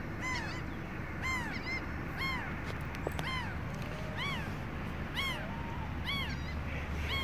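Crows caw loudly and repeatedly in a back-and-forth exchange, harsh rising calls coming in uneven bursts over a steady outdoor background hum, sounding like a squabbling pair.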